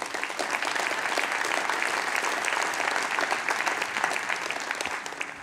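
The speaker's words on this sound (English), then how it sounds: "I'd just like to give them a big round of applause." An audience at a London startup accelerator demo day gives a dense, sustained round of applause at steady loudness, tapering slightly at the very end.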